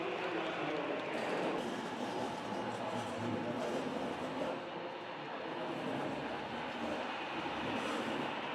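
A model steam locomotive running on DCC with sound makes a continuous rolling, rumbling track noise for the whole stretch, while people talk quietly in the background.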